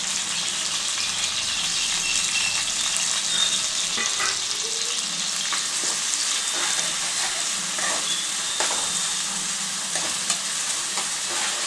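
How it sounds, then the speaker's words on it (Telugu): Onion, mint and green chilli fry together in hot oil for gongura chicken, giving a steady, close sizzle with the odd soft stir tapping through it. "ఇవి మంచిగా రెడ్గా అయ్యేంత వరకు వేయించుకోవాలండి"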